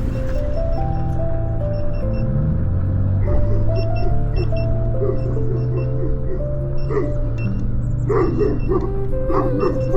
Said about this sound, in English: Oh, it's a big puppy.